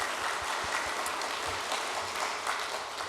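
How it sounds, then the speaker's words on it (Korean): A church congregation at a Korean Sunday worship service applauds. The dense, even clapping from many hands carries on steadily for a few seconds with no talking. "오늘의 은혜를 주신 하나님께 우리 감사와 영광의 박수 한번 돌립시다"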